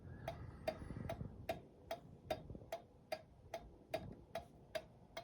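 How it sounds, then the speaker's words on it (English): A 1911 New Haven Cunard line kitchen clock ticks in a steady, evenly spaced rhythm of sharp, close clicks over a low room hum, with no voices. "Boy, it's a good sounding clock."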